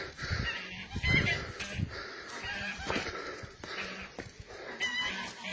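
A farmyard goose in a village gives repeated nasal honks and wheezy calls at close range, the bursts coming in an uneven rhythm over several seconds.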